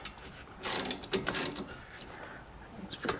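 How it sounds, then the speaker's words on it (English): Caliper bolts on a Toyota Sienna front brake are snugged up by hand, with a few quiet ratcheting clicks in short bursts close by and pauses between them. "we're going to snug up the two bolts, the one on the top and the bottom"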